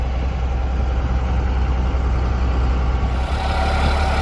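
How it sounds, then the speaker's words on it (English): A 1997 Dodge Ram with a 12-valve Cummins diesel engine, idling roughly with suspected bad injectors, gives a steady deep rumble that runs throughout, close and fairly loud, with no talking. "So that way you guys can kind of see the truck moving itself."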